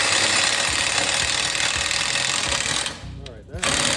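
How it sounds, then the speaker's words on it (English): A loud, close power drill grinds steadily into wood, enlarging a hole, its motor whining continuously before briefly dropping off and then revving back up. "I'm gonna drill a bigger hole now."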